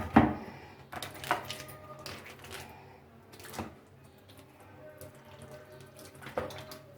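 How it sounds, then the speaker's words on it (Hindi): Plain water poured from a vessel onto mashed tamarind and plum pulp in a home kitchen, giving quiet splashing and trickling with a few soft knocks and clinks, faint and intermittent, no talking. "सादा पानी हमने ये लिया है, इसके अंदर डाल देंगे"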